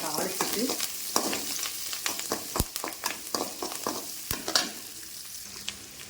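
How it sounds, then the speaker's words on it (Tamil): Mustard seeds spluttering in hot oil, then onions and curry leaves tossed in for a mushroom curry tempering, giving sharp irregular pops and crackles over a low sizzle, close up with no talk. "கடுகு பொரியுது, வெங்காயத்தையும் போட்டு கொஞ்சம் கருவேப்பிலை போட்டு"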